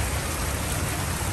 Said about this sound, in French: Attendez, je vais vous montrer la pluie.